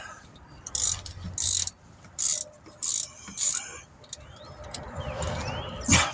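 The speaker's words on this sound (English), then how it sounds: "turn the bolt on this idler pulley" A ratchet wrench clicks in several short bursts while turning the bolt on an idler pulley in the engine bay of a 2016 Dodge Journey, close and distinct, with quieter pauses and faint rustling between bursts.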